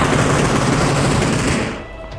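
Rapid, continuous automatic gunfire in the battle-royale shooter PUBG, loud and close, a dense rattling stream that fades out in the last half second.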